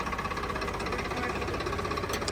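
A steady, rumbling Swaraj 969 CRDI tractor engine runs continuously at close range, with a low knocking throb and no talk over it.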